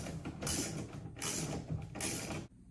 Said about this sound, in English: then I'm going to put a lag bolt in